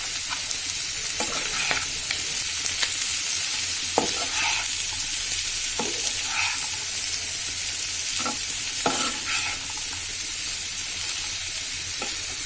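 Vegetables for vegetable rolls fry in a pan with a steady hiss and sizzle, while a utensil stirs and scrapes at irregular intervals, close and clear, with no voices.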